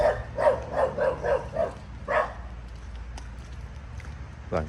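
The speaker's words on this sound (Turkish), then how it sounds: "şu köpek de beni hiç sevemedi gitti" A dog barks in a quick series of about six sharp woofs, then a single later bark, fairly close, with faint background noise.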